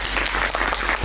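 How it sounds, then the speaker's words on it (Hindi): A theatre audience claps at a play performance, dense steady applause from a crowd, close and sustained for about a second. "उनके लिए तालियां।"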